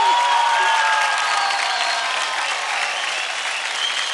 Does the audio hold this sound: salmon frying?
no